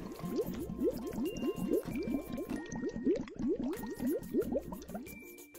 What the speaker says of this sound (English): Let the glass sit until the water stops bubbling.